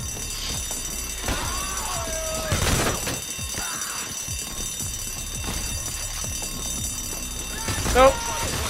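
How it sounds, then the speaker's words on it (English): A ringing alarm goes off during a heist in the video game PayDay: The Heist, sounding steadily over game noise and busy background sound, with a sharp rise near the end and voices talking throughout. "Oh, now the damn alarm goes off?"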